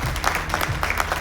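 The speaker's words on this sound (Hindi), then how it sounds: "जोरदार तालियां, तालियों में दम आना चाहिए।" Audience clapping to welcome guests at a health-company event, a short burst of steady applause with bits of low talk or music underneath.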